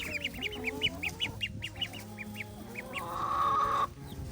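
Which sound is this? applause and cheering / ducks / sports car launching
ducks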